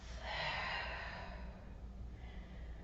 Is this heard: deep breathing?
yes